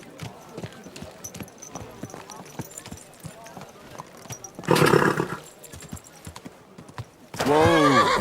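A horse in Kingdom Come: Deliverance II moves with soft, rhythmic hoof clops, then gives two loud, close whinnies, one in the middle and one at the end.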